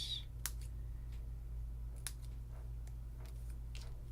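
Scissors cutting out a paper stencil, a handful of sharp, separate snips spaced irregularly over a low steady room hum, fairly close and crisp with no talking.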